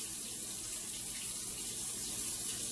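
Tap water runs in a steady, even stream into a sink as hands are rinsed. It is a quiet, continuous wash with no talking over it.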